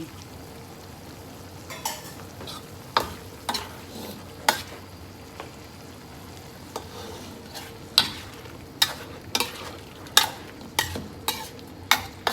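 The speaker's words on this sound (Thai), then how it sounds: "ตอนนี้เดี๋ยวเอาคนส่วนผสมเข้ากันเลย" A spoon stirs Vietnamese-style braised pork with boiled eggs and fried tofu in a pot: soft sizzling and simmering under repeated sharp scrapes and clinks of the utensil against the pan, close up, with no talking.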